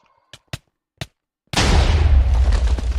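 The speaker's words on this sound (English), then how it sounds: "Ah, the stupid explosion." A loud video-game explosion bursts in and rumbles on for over a second in a modded Shiverburn final-boss fight with a mechanical tower golem, following a few short sharp impacts.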